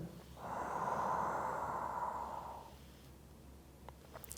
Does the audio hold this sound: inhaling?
yes